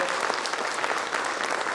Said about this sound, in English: So let's give a big hand to Amit sir